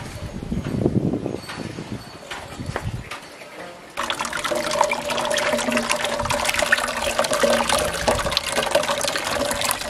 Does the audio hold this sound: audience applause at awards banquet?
no